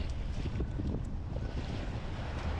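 Rushing water and churning waves roar steadily, mixed with heavy wind buffeting the microphone, loud and constant throughout with no voices.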